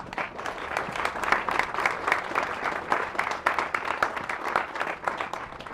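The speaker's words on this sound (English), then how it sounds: "So give her a round of applause." An outdoor crowd at a rec center anniversary ceremony applauds steadily, with dense, continuous clapping that holds an even level throughout.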